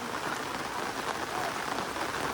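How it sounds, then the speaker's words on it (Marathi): Heavy rain pours steadily on a village near a school, a dense, even hiss of drops on surfaces that fills the whole stretch without pause. "पाऊस आला बघा गावी पाऊस खूप आहे"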